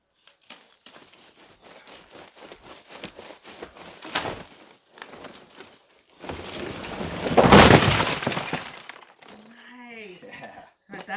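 A wall being taken down during cleanup of a ruined house in Spain, with scattered knocks and cracks building to a loud rumbling crumble and collapse, followed by excited voices.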